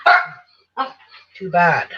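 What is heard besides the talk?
dog barking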